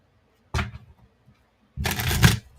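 A deck of cards being shuffled close up in two bursts, a short riffle followed by a longer, louder riffle with a snap at the end, and no talk.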